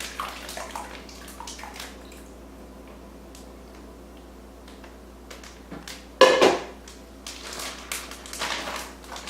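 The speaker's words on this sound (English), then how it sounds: "Simply hold your bag open, pour your spaghetti sauce into the freezer bag" Spaghetti sauce is poured into a plastic freezer bag in a kitchen, giving soft wet glugging and rustling with light clinks and a sharper clatter midway, fairly quiet and close.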